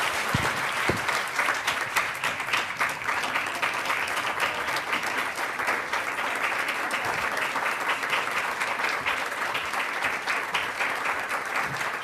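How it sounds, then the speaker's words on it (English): An audience at a State Department foreign policy gathering applauds: steady, dense clapping from many hands fills the room at an even level, without voices. "Please give her a round of applause."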